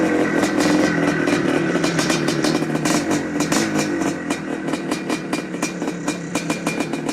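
A 1976 Suzuki RM370 motocross motorcycle engine runs at idle up close, a loud, steady, slightly rough rapping drone with a fast regular pulse and some mechanical clatter throughout.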